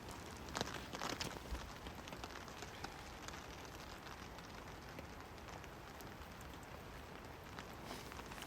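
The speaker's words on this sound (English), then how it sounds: "It is raining now" Quiet, steady rain pattering on a surface at a mountain campsite, with a few sharper drips and taps near the start, no voices.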